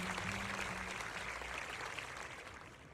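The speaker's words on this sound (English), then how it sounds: "Zoe's speech is met with waves of prolonged applause" Crowd applause after a speech in the video game Zenless Zone Zero, a steady wash of many clapping hands held at moderate volume and slowly fading toward the end.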